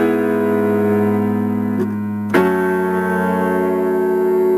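Sustained piano chords from the bridge of a song ring steadily, with one chord change partway through and a brief dip before the next chord sounds.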